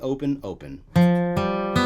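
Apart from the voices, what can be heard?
No everyday noise stands out behind the speech.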